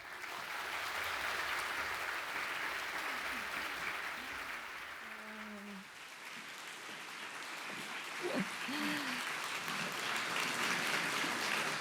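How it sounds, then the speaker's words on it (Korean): Warm, sustained applause from a church congregation welcoming a guest speaker to the stage, a dense continuous clapping that fills the whole stretch, with a faint murmur of voices low beneath it. "그런 마음으로 나오실 때 큰 박수로 좀 환영해 주셨으면 좋겠습니다"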